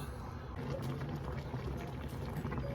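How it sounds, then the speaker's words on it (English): Green okra soup simmering in a pot makes a dense, continuous bubbling and gurgling rumble, close and steady throughout. "So we just have to let it simmer for at least another 2 minutes"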